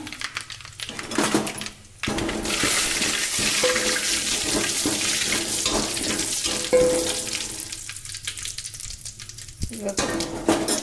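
Curry leaves hitting hot oil already tempered with cumin and mustard seeds for radish sambar: a sudden loud, hissing sizzle that holds for several seconds, then dies down.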